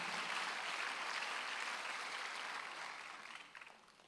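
A church congregation at a Sunday worship service breaks into applause, a soft, dense patter of clapping that holds steady and then fades away toward the end.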